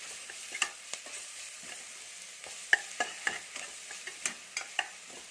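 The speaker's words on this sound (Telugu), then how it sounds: "ఒక స్పూన్ అల్లం వెల్లుల్లి పేస్ట్ కొద్దిగా పసుపు వేసొకసారి బాగా కలపండి అల్లం వెల్లుల్లి పేస్ట్ పచ్చివాసన పోయే వరకు ఫ్రై చేయాలి" Onions frying with ginger garlic paste and turmeric in a pan, stirred with a spoon: steady soft sizzle under repeated scraping clinks and stirring strokes, close and fairly quiet, no voices.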